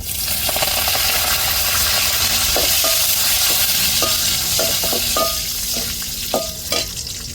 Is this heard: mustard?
yes